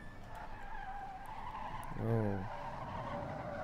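Tires squeal briefly in the WRC 5 rally video game as the car slides through a corner, a short harmonic screech rising over steady engine drone, with a brief exclamation from a voice.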